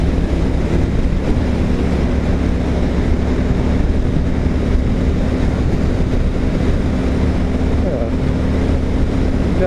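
Strong wind roars steadily across the microphone of a motorcycle rider on the road, a loud, constant low rumble with little variation.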